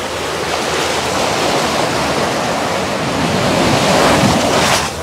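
Ocean waves on the Karwar coast of coastal Karnataka, a loud, continuous surf roar with wind buffeting the microphone, swelling toward the end, no voices.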